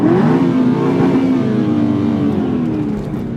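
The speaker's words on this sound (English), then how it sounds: "but I will rev my car" A car engine revs up hard, then its pitch slowly falls as the revs ease off; the sound is loud and close, alone without talk, lasting a few seconds.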